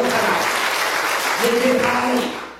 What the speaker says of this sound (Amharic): አጨብጭቡ ለሠራዊት ጌታ ለእግዚአብሔር